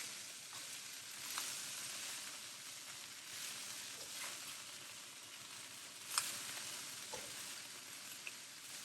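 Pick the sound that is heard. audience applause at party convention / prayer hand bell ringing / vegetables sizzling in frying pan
vegetables sizzling in frying pan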